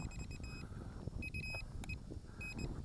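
Short electronic beeps from a Hobbytiger H301S GPS FPV camera drone during an outdoor flight test, repeated in several quick bursts over steady low wind and motor rumble.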